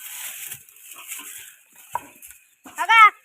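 A newborn black female buffalo calf lets out a single short, nasal bleat near the end, loud and close, after mostly quiet moments with faint clinks.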